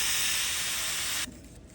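An AUTOMAN garden hose nozzle on its mist setting sprays water in a bright, steady, close hiss for about a second before cutting off abruptly, leaving faint residual noise.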